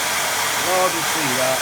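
A hair dryer blows over a watercolour painting of a distant lake, a loud steady close whoosh running throughout while someone speaks briefly over it.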